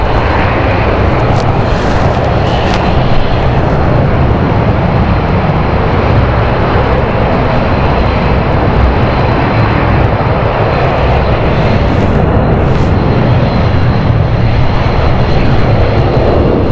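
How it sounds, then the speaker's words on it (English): A jet airliner bound for Berlin on its takeoff roll at London City Airport makes a loud, sustained engine roar that holds steady throughout, with no one talking over it. "we're rolling now for the Berlin flight"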